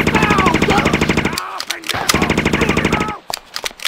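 Rapid automatic gunfire from the video game Just Cause, loud, dense bursts with brief pauses and scattered single shots, mixed with game sound effects and no talk.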